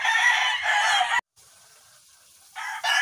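A Golden Boy Sweater gamefowl rooster crows loudly and close, one long harsh call that cuts off, followed by a quieter stretch and another raspy burst.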